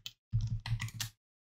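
Short burst of typing on a computer keyboard, a quick run of soft clicks lasting under a second after a single tap, close and quiet with silence on either side.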